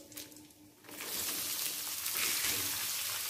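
Onion drops into hot oil with cumin seeds, setting off a quiet crackle that jumps into a bright, steady hiss and sizzle carrying on to the end, close and with no talking.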